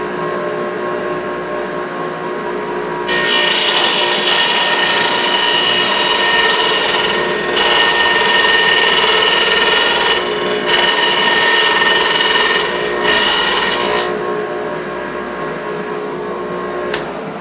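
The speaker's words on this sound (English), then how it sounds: "That's a 3/4 inch wide daito cut right there." A radial arm saw cuts a 3/4-inch-wide dado into a board, its loud, steady, grinding whine running for many seconds with a few brief dips and surges as the cut progresses.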